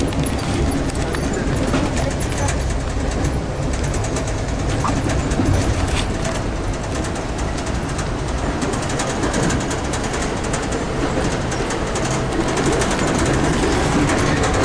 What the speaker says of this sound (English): we're gonna try to attempt to walk on the train while it's moving